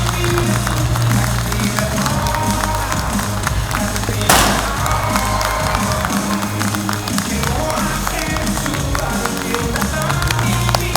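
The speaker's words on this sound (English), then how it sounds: "Everyone, please join me in a worthy round of applause." Sustained applause and cheering from a university graduation ceremony audience in a large hall, loud and continuous throughout, with a sharp crack partway and voices mixed in.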